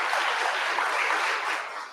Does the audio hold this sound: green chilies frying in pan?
no